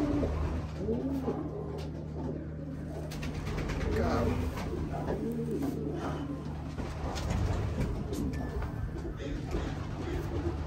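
Pigeons coo steadily in low, throaty phrases close by, while people talk quietly underneath.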